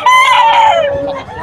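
A rooster crows once, loud and close, among clucking fowl at a poultry sale, a short burst that fades at the end.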